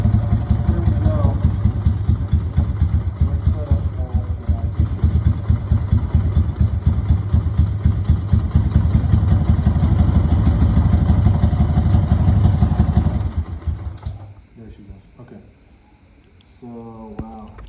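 A 6x6 ATV engine with its carburetor out of adjustment runs loud and close with a steady, rough idle clatter, then sags and nearly stalls before picking back up faintly.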